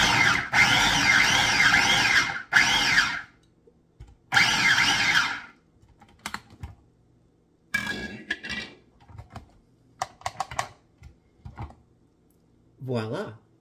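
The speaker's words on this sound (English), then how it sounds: "I'm gonna put them in the processor" A food processor chopping tater tots runs in loud, steady bursts with short pauses in between, followed by a few quieter clicks and pulses near the end.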